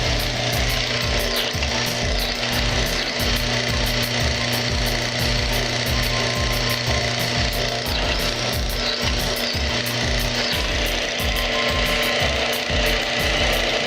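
A lubricity test machine running with Mobil SHC 634 synthetic gear oil gives a loud, continuous mechanical grinding and rapid rattling clatter with a steady hum, close and unbroken throughout.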